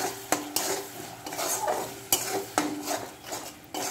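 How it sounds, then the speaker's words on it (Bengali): A pan of spices with Kashmiri chilli powder, turmeric and salt is stir-fried for a fish curry, a spatula scraping steadily over a soft sizzle, with sharper knocks against the pan now and then, close up. "এবার দিয়ে দেবো আমি একটু কাশ্মীরি লঙ্কার গুঁড়ো, একটু হলুদ, লবণ। এবার মশলাটাকে কষে নেব।"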